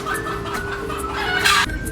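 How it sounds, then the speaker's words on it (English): Chickens clucking outdoors on Kauai, a steady run of short hen clucks and calls at close to moderate distance with a louder burst near the end, no talking. "And there are lots of chickens everywhere in Kauai."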